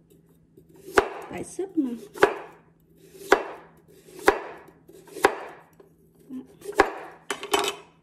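A knife slices food thickly for soup on a hard board, eight sharp chopping knocks spaced roughly a second apart, close and clear, with a brief spoken remark among them.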